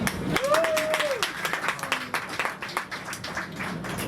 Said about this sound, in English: give me a round of applause too